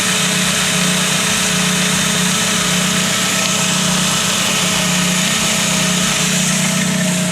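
Up close, the idling engine of a VW Gol G2 runs at an even, unbroken drone with a light tapping noise from a fault mixed in, with no speech over it.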